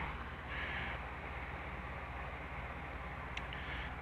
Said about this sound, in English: Sorry about the noise, it's my air conditioner.